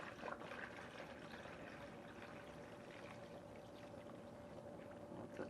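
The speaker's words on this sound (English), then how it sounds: "I'm going to soften that plaster up with some water after it's cooled down a little bit" Water pours steadily onto a cooling plaster casting mold, making a continuous hissing, splashing flow at low volume that stays even for several seconds with no talk.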